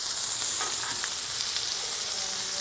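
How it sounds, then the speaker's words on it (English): Corn cooks on a hot grill with a steady, close sizzle and hiss and a few soft crackles, with no talking. "Corn is cooking."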